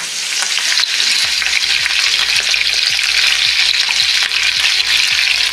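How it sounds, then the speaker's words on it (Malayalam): Mustard seeds and curry leaves spluttering in about one and a half teaspoons of hot coconut oil, a loud continuous sizzle peppered with sharp rapid pops and crackles, close by with no voices. "കടുക് പൊട്ടട്ടെ."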